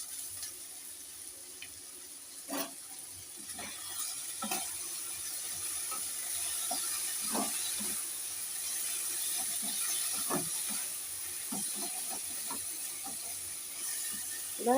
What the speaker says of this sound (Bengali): এবার আমি ঢাকনাটা খুলে দেখব।